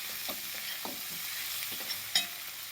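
Potato bhaji stirred in a frying pan: a continuous sizzle with several spoon scrapes and taps against the pan at irregular intervals, close up, with one sharper clink near the end.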